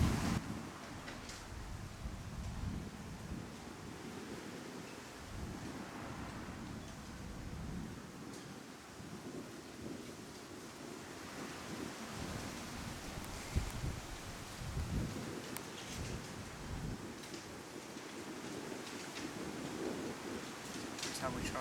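Wind gusts outdoors in broad, rushing swells that rise and fall continuously, with rustling and some microphone buffeting, fairly close and steady throughout.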